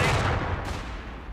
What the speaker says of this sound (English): With my artillery.